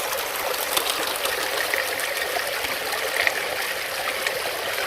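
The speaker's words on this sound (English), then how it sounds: "I'm hearing the nice water." Water flows steadily in a recirculating gold dry washer in the desert, a continuous close trickling rush with no voices.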